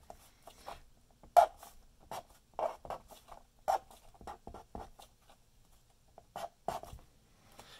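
Marker or pen drawing a chemical structure by hand on a surface during an organic chemistry class, heard as irregular short squeaky scratching strokes separated by brief pauses, close and fairly quiet.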